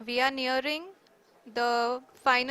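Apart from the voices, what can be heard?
No everyday noise stands out behind the speech.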